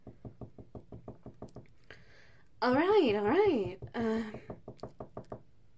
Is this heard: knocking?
yes